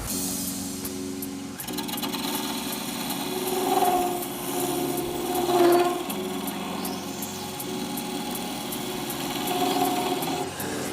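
A skew chisel cutting burl wood spinning on a lathe for a shaving brush top, a continuous scraping rasp with the motor's steady hum, swelling in a few passes as the tool bites, close and without talk.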